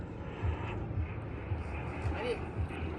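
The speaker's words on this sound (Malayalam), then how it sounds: "നമ്മുടെ യാർഡിൻ്റെ മുകളിൽ കൂടി ഫ്ലൈറ്റ് പറന്നു പോകുന്ന രംഗമാണ് ഇവിടെ കാണുന്നത്." An airplane passes overhead above a marble dumping yard in Kishangarh, Rajasthan, its engine a faint, steady distant drone with a low rumble holding through the whole stretch.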